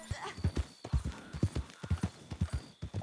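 A horse in Red Dead Redemption 2 walks with steady, close clip-clopping hooves in a regular rhythm, loud and clear with no other sounds over them.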